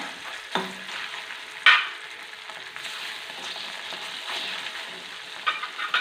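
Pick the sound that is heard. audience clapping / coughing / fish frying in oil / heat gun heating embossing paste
fish frying in oil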